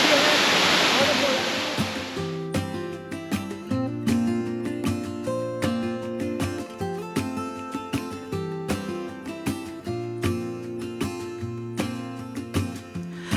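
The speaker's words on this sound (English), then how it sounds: "I wanted to show you this waterfall before it turns off." A huge waterfall roars as a continuous broadband rush, loud at first, then a steady beat of music plays over the fading water.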